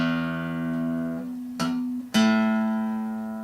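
Acoustic guitar strings are tapped and left to ring while being tuned, with two sharp plucks that each bloom into a sustained, slowly fading tone, close and clear.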